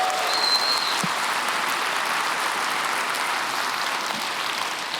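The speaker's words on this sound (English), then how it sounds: "Give yourselves a round of applause." Sustained audience applause for an online gaming community event, a dense, even wash of many hands clapping, steady and fairly loud for the whole stretch with no talk.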